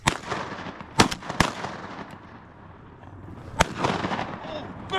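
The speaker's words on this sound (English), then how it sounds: "I shot one out there a little ways." Shotgun blasts while duck hunting on a Mississippi River mud flat: several sharp, loud reports in quick succession, a pause, then one more shot, with people talking in the background.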